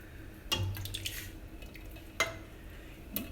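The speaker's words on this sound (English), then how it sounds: "I'm going to add some diced tomatoes because I like the texture of diced tomatoes in here" Diced tomatoes going into a pot of stewed tomatoes for spaghetti sauce, with a few wet plops, soft clinks and a light metallic scrape against the pot, close and moderately quiet, with no talking.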